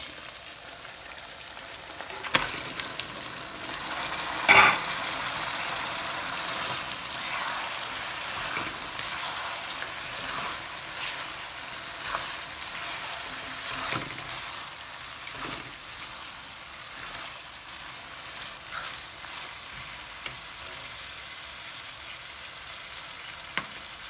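Mutton sizzles in a karahi with a continuous hissing, crackling fry that stays close and steady throughout, broken by occasional sharper pops and scraping stirs.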